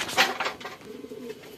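A pigeon coos softly and briefly up close, a low throaty murmur over some fluttery rustling.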